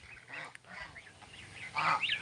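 Several nasal duck quacks, some overlapping, with a louder burst of calls near the end over faint background noise.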